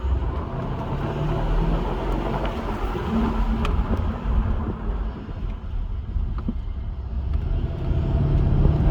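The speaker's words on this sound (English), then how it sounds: "we're going to do a sequence of basically 35 miles an hour down to about 5 miles an hour 5 times, and we're going to really heat soak these rotors" Mercedes SL550 R231 slowing repeatedly from about 35 to 5 mph to heat-soak its front brake rotors, heard as a steady, fairly loud rumble of road, engine and wind noise with no talking.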